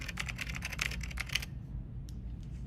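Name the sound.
computer keyboard typing sound effect in LEGO stop motion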